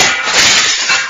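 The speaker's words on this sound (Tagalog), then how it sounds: "Ngayong nabasag ko na ang bintana ng kotse mo" A car window smashed as a radio drama sound effect: a single loud, bright burst of shattering glass that sprays and fades within about a second, with no voices.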